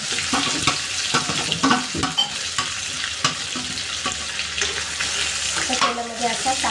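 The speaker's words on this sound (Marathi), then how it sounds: "तर तेलामध्ये असा चांगला परतून घेऊया." Ground spice masala with bay leaves sautéing in hot oil for a spicy crab gravy, a close, steady sizzle broken by repeated scraping stirs of a spoon in the pan.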